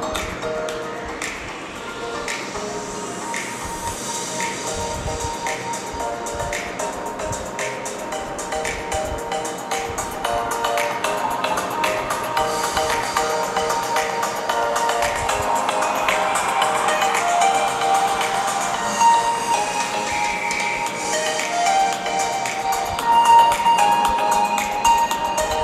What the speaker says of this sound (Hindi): अब मैं आपको यहाँ पे इस फ़ोन का साउंड टेस्ट भी करा देता हूँ।